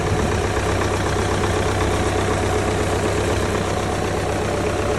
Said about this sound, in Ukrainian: Такий тракторець, 82 заводиться гарно.